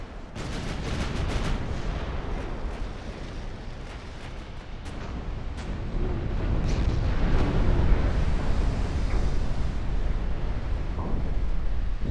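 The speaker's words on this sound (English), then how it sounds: "11-inch guns are being effective too" Eleven-inch naval gun shells striking a target in a video game campaign, a dense barrage of rumbling explosions and sharp impacts, with several distinct cracks early on and a continuous heavy roar building later, no voices.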